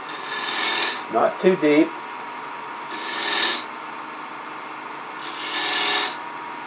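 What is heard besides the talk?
lathe tool cutting a cove into wood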